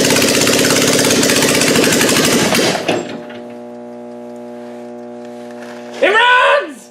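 A hot-wired Toyota Camry engine running on a carburetor roars loudly and steadily for about three seconds, then drops away. A low tonal hum follows, ending in a brief, sharp burst.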